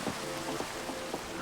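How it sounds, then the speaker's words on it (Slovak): Rain falls in the Minecraft video game, a soft steady hiss of drops with faint pattering, quiet and continuous, no voices. "V tomto svete prvýkrát prší."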